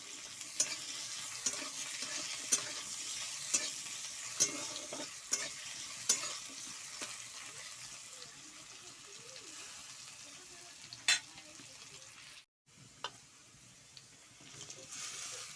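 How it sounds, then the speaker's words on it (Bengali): Small chopped potato pieces fry and get stirred in a pan, a soft continuous sizzle under repeated sharp tapping and scraping strokes, with a brief dropout near the end. "এইগুলোও আবার লাল লাল করে ভেজে নেব"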